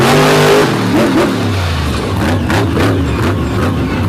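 Monster truck engine revving hard on a freestyle run at an All-Star Monster Truck Tour show, loud and close, with a deep roar that rises and falls in repeated throttle bursts.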